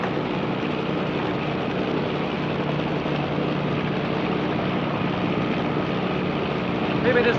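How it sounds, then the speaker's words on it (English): A helicopter flies close by, its rotor and engine making a loud, steady, continuous roar that holds for several seconds with no pause. "chopper."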